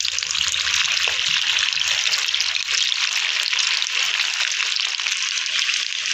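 Sabudana vada fry in hot oil with a loud, dense, continuous sizzle and crackle that holds steady throughout at close range.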